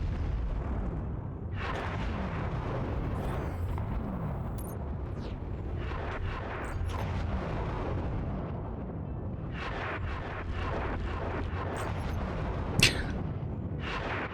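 Missiles fire and burst in MechWarrior 5: Mercenaries, a dense, steady barrage of booming explosions and launches rolling on continuously under a constant heavy rumble, with one sharper crack near the end.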